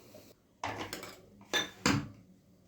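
Metal ladle clanks against a pot and grater while fava bean soup is served, a few separate sharp clinks and scrapes spaced apart, close and clear with no talk.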